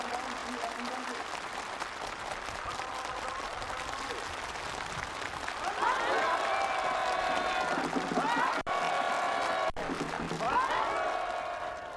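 A crowd at a new farm housing move-in ceremony in North Hwanghae Province claps warmly and steadily, a dense, continuous patter that swells louder midway, with a voice speaking over it.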